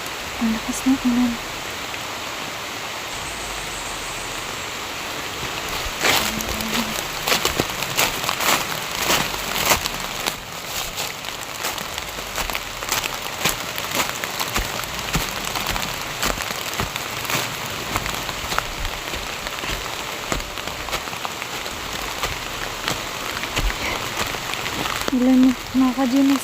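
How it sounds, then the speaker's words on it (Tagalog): Heavy rain pouring down, a dense, continuous hiss of drops drumming on surfaces nearby, with scattered louder splats; a person speaks briefly at the start, middle and end. "Ang lakas ng ulan."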